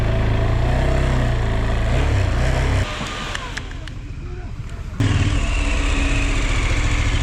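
Motorcycles pulling in and idling at a tented stop: loud, close engine rumble throughout that drops to a lower, rougher idle for a couple of seconds before rising back to a full throbbing run.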